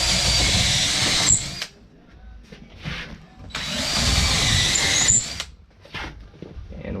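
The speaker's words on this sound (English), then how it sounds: "we take a drill like so, and we're gonna go every other stud bay" A power drill whines loudly and close in two long bursts, boring pilot holes through wall stud bays while framing a floating wall, with brief quieter clicks and knocks between runs.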